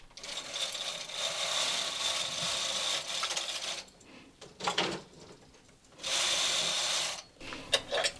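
A Brother punch-card knitting machine's K carriage is pushed back and forth across the needle bed knitting plain rows, giving two long rattling, clacking passes separated by quieter handling clicks, close and fairly loud.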